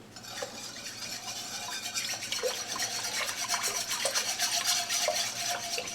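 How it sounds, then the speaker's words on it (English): Whisk scraping and swishing briskly through strawberry jelly as Sure Jell pectin is stirred in, a continuous close rasping rub against the pot that builds slightly in intensity, with no talking. "When you're stirring in a Sure Jell pack, sometimes in strawberry jelly, I don't know why, it doesn't want to dissolve very well. So I always like to whisk it in."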